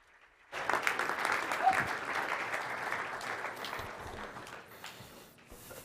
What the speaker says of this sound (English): So let's give a big applause for Dr. Ben Tertine.